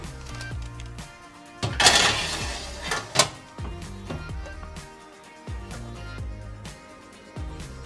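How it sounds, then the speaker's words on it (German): Homemade coconut chips stirred on a metal baking tray just out of the oven, with clattering scrapes and knocks of utensil on tray, a louder rattling burst early on, and a faint background hum. "Nach 5 Minuten das Blech aus dem Ofen holen, kurz umrühren."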